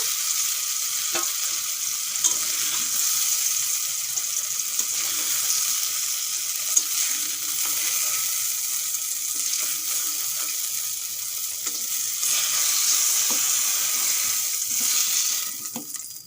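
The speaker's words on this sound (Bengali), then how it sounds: "দেখুন বেশ সুন্দর করে আমি বেগুনগুলো ভেজে নিয়েছি এখন তুলে নেব" Eggplant slices frying in hot oil for Bengali begun shorshe ilish, a continuous close sizzle with occasional crackles and light utensil sounds, steady for the whole stretch with no voices.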